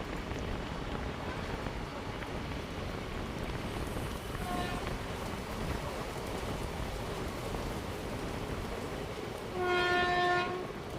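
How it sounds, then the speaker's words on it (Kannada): A train runs through Kodigehalli halt railway station with a steady rumbling roar heard from on board, a short horn note midway and a longer horn blast near the end. "ನಮ್ಮ ಟ್ರೈನ್ ಈಗ ಕೊಡಿಗೆಹಳ್ಳಿ ಹಾಲ್ಟ್ ರೈಲ್ವೆ ಸ್ಟೇಷನ್ನ ಸ್ಕಿಪ್ ಮಾಡ್ತಿದೆ."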